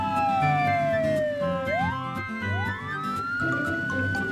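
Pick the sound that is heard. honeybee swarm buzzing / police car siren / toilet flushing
police car siren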